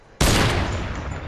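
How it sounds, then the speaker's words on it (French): A single loud, sharp rifle shot from a video game cracks close up after a short quiet moment, then a long reverberant tail slowly fades. "là il a tout droit de me sniper"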